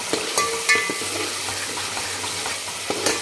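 Masala paste frying in hot oil for a spicy black-masala mutton curry, stirred continuously: a steady close sizzle under repeated scraping and clattering stir strokes, with a few louder knocks against the pan.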